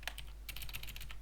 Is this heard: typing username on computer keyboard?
yes